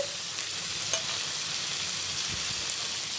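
Fried dried fish goes into a sizzling curry pan, producing a steady, fairly quiet frying hiss with a faint soft thump and light scraping, and no voices.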